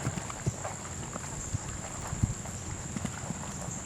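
A ridden mare's hooves thud in an irregular clip-clop on open ground outdoors, fairly near, with wind buffeting the microphone throughout.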